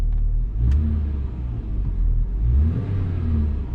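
A Saab 9-5 Aero with 200,000 miles and a troubled transmission sits in reverse as its engine is revved hard, a loud, steady low rumble that swells and falls twice without the car moving.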